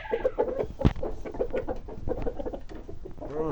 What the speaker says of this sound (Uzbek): Bu yoqda mana xo'rozlar.